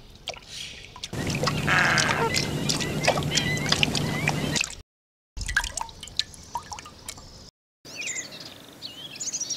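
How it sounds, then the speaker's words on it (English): Greater flamingos busy in the Mahal Marsh at midday: a dense, close wash of wet splashing and dripping water, with scattered bird calls rising over it, broken by two short silent gaps. "a singular bird that visits the Mahal Marsh at this time, namely the greater flamingo, which keeps busy even at midday."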